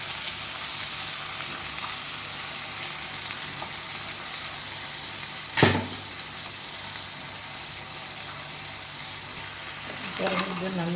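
Ground coriander and green chilli paste frying in a pan, giving a continuous hissing sizzle with one sharp clank midway and a brief scrape near the end.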